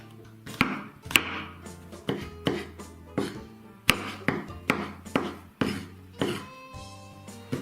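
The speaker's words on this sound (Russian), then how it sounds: "Грибы также нарезаю кубиками." Mushrooms are diced into cubes on a cutting board, a knife striking in crisp, fairly evenly spaced chops, close and distinct with small gaps between strokes.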